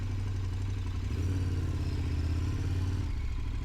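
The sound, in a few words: motorcycle engine while parking the bike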